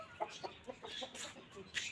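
Aseel hens cluck in short, rhythmic bursts at close range in a farmyard, about eight clucks over a couple of seconds with a brief louder call near the end.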